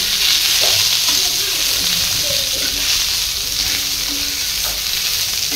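Fresh coriander stirred into sizzling masala in a pan for a black-eyed pea curry, a loud close hiss with spatula scraping throughout.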